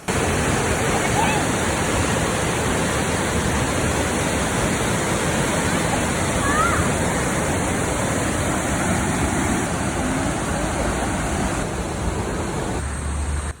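Stream water rushes like a small waterfall in rural hill country, a loud, dense, unbroken roar close to the microphone that fills the whole stretch.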